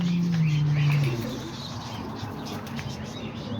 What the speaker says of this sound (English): So yeah, there's all the pigeons right here.